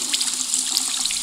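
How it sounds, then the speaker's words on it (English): Water hisses steadily from a shower spray, a bright continuous splashing close by with no voices. "I'm taking a shower"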